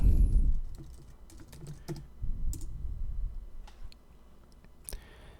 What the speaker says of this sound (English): if you type in 餐厅